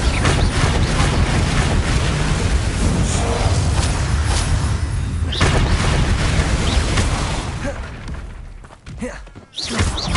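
Bombarda explosion spell in Hogwarts Legacy, dense booming blasts, thuds and clanking game effects filling the scene loudly and continuously, easing off near the end with a few sharp impacts.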